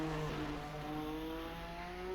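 A 1988 F1 car engine in Assetto Corsa at Bahrain drones steadily at high pitch, its harmonics sliding slowly upward as it holds revs, loud and close with no talking.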